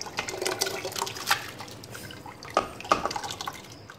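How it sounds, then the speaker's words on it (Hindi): Soaking water from the dalia (broken wheat) poured into a cooking pot for mutton haleem: a continuous soft splashing and trickling with scattered drips, fairly quiet and close, no voices. "जो हमने दलिया भिगाया था उसका पानी है ये, वो भी हम डाल देंगे"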